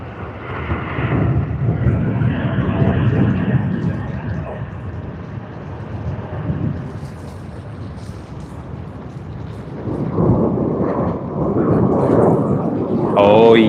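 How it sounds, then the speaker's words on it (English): Korean Air Boeing 787-10 Dreamliner at Sydney Airport, a steady broad jet roar with wind buffeting, loud and fairly close, swelling again toward the end while someone talks over it. "787-10 Dreamliner, one of the newer planes that has been introduced to Sydney"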